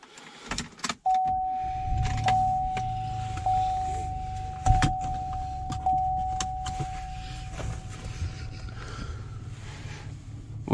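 Car interior while driving around a lake, with a low engine and road rumble, a steady whirring tone like a power window, and scattered clicks and knocks.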